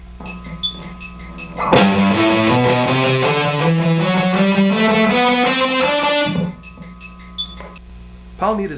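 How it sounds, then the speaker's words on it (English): An electric guitar plays a quick run of distorted notes through a Valve Junior tube half stack turned up loud, giving a natural tube overdrive that cuts off abruptly, with quiet ticking before and after. "it through the Valve Junior half stack with the volume way up at the 3 o'clock dial. And this is giving us a natural tube distortion"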